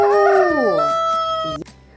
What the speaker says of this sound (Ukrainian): Півник кричить кукаріку.